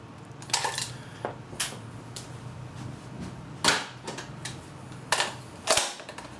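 A 0.2 g magazine is swapped out of a BB gun, giving a close series of sharp plastic clicks and clacks at uneven intervals, with quieter handling noise between them and no speech.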